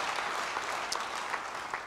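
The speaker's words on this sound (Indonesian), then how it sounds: "Beri tepuk tangan bagi dia." Church congregation claps in steady applause, a dense, continuous patter of many hands filling the hall for a couple of seconds, with no voices on top.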